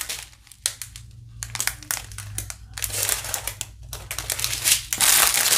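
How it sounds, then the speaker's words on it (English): Plastic packaging crinkled and crumpled while a Christmas kit is sorted, loud close bursts of crackling in irregular handling rhythm with brief pauses, rising at the end, no voices. "Sorry for all the crinkling. I know that's loud."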